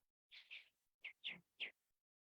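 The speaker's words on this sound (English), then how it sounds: "Get to hear the birds squawking." Several birds squawk outdoors in a quick series of five sharp, fairly close calls, the first two joined and the rest spaced apart, with near silence between.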